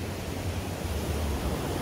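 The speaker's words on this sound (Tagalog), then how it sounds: "Ito yung dagat, maalon siya." Rough sea waves at White Beach, Puerto Galera, a steady wash of surf blended into a continuous, moderately faint roar with no talking.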